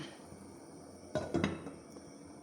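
A lid is set onto a pot of rambutan simmering in sugar syrup for rambutan payasam. A brief metallic clatter and clink of the lid rise over a quiet kitchen background, with no speech.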